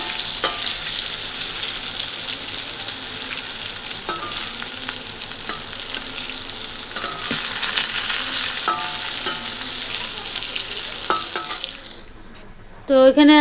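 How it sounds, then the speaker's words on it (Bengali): Pointed gourd (potol) frying in a pan gives a continuous close sizzle with occasional stirring clinks, ending in a brief clatter. "এই যে দেখো পটল একবারে বসিয়ে দিয়েছে একবারেই হয়ে যাচ্ছে ভাজা"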